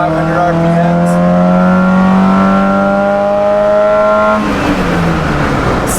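A car engine winds up loudly in second gear, its pitch climbing steadily toward just under 6,500 RPM before a short shift drops the revs, heard close from inside the car.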